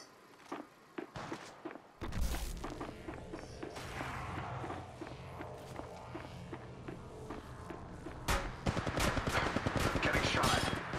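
Apex Legends gunfire during a ranked match: bursts of rapid shots and impacts, with footstep-like clatter, under dense game sound that grows louder and busier toward the end.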